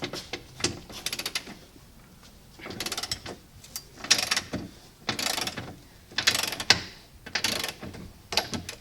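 A ratchet torques a subframe bolt on a Genesis coupe during a subframe bushing shim install. Several separate bursts of rapid pawl clicking sound up close, with short pauses between strokes.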